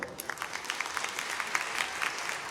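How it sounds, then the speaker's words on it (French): Audience applause at a YouTuber conference on stage at the Toulouse Game Show, a dense steady patter of many hands clapping at moderate distance, with no speech over it. "S'il vous plaît, applaudissements pour Picanoa"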